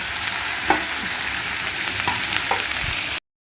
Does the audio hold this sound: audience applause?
no